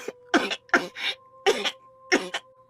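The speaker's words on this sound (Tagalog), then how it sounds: "mag-iisang linggo na yung ubo mo ah" Four separate bursts of coughing from a young woman, each a harsh doubled cough, spaced about half a second to a second apart, close and fairly loud over a faint steady hum.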